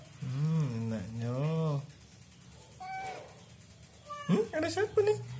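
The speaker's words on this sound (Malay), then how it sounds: "Kucing." A cat meows several times close by, with high wavering calls near the end, following a stretch where people talk in an Indonesian home while peeling eggs.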